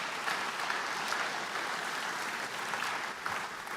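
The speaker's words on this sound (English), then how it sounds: "Give everyone a great big round of applause." Audience applause at a ministerial conference, a dense, steady wash of clapping hands from a large crowd filling the room at even loudness throughout.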